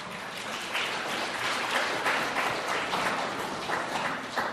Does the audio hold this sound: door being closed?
no